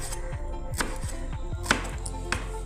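A knife chops cabbage finely on a board for pakoras in a steady, quick rhythm of close, even blows over a constant low background hum.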